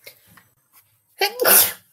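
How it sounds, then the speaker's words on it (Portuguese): A single loud sneeze bursts out after a moment of near silence, preceded by a faint breathy sound. "Me veio um espirro."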